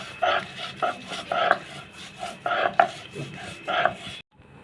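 Hilsa fish pieces ground into a paste on a stone, following earlier grinding of pointed gourd peels: repeated rough scraping and rubbing strokes, six or seven bursts at a steady rhythm, close and moderately loud, ending abruptly.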